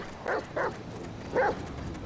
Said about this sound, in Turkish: Burada da rottweiler var.